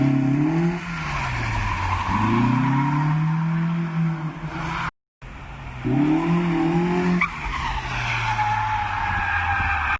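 A Nissan 240 drifts with loud, sustained tire squeal and a revving engine that rises and falls in long sweeps, breaking off briefly before resuming.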